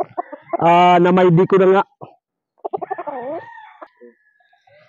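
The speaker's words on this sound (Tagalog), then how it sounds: "Yan, gwapo manok." A rooster crows loudly and close by in one long harmonic call, followed by a quieter stretch of clucking and shorter throaty calls, with someone speaking briefly between the sounds.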